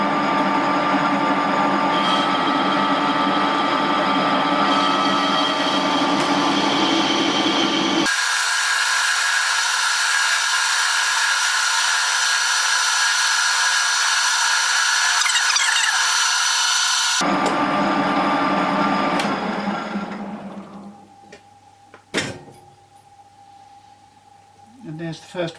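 A lathe parts off a knurled metal part, running as a loud, steady tonal whine for about twenty seconds before winding down, followed by a few sharp clanks and quieter handling near the end.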